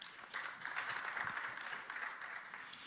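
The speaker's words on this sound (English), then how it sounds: "Another round of applause for him." Short, fairly faint round of audience applause at an African regional development forum, even and continuous with no voices over it.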